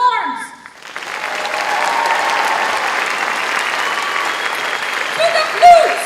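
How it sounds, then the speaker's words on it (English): An audience at a college anniversary concert applauds the horn section: sustained, dense clapping that swells in after a brief opening and holds steady and loud, with a voice briefly audible near the end. "Let's give a round of applause to the horns"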